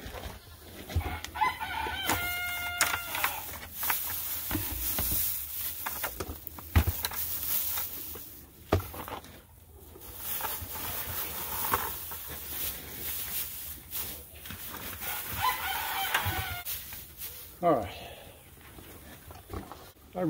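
Chickens cluck and a rooster crows a couple of times amid outdoor rustling and background noise; no one speaks.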